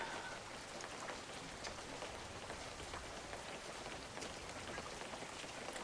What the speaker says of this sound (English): Oh, the rain sounds are also fucking lovely in this.